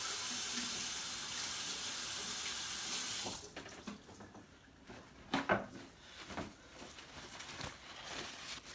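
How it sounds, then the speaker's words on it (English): Running tap water gushes steadily for a few seconds, then stops, followed by scattered splashes and drips as hands are rinsed nearby. "I'm going to rinse my hands again."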